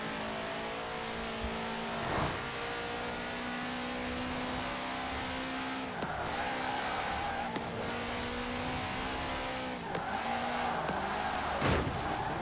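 A car races in Forza Horizon 4, played on a mini PC, and smashes through a wall. The engine revs continuously with tyre squeal, and several dull impact thumps break through along the way.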